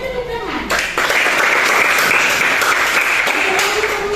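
Classroom audience clapping at a teaching-practice session, a dense burst of applause starting about a second in and holding steady, with a voice speaking briefly at the start.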